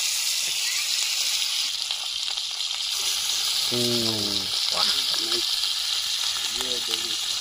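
Bangda mackerel frying in a hot pan gives a steady broadband sizzle throughout, with a few short voices speaking briefly over it midway and near the end.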